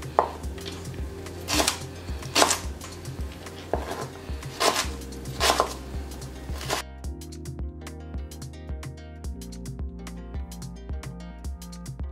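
Sharp knife chops through rhubarb, striking a board in an irregular rhythm, up close, over steady background music.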